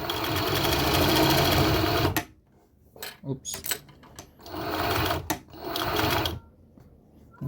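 Sewing machine stitching a backpack, loud steady motor run for two seconds, then stop-start bursts of stitching separated by quiet gaps, with a brief spoken exclamation.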